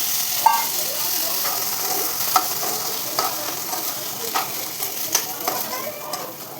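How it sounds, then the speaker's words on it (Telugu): Boiled chickpeas are stirred into a tempering of dried red chilli, mustard seeds and cumin in a pan, a steady close sizzle with regular spoon scrapes and taps. "ఫ్రై అయిపోయిందండి, ఇప్పుడు ఉడికించిన శనగలని వేసేసుకుందాం"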